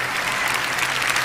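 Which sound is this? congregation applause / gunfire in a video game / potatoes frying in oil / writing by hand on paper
congregation applause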